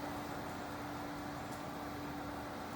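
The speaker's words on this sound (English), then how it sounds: "So the pump room is pretty loud." A loud, steady mechanical drone of pumps running indoors, with a constant low hum and no pauses or talking.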